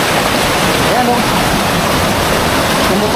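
Continuous loud rush of flowing water, like a heavy stream or spilling cascade, filling the whole scene without pause; faint voices mixed underneath.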